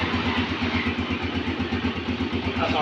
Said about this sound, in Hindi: मोटरसाइकिल स्टार्ट हो गए